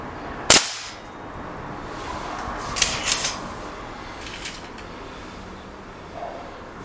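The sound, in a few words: gunshots at swinging steel targets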